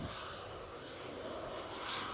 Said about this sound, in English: this is VYGM, a beast of an A330-200, heading out to Dalaman in Turkey with flight 921 for Jet2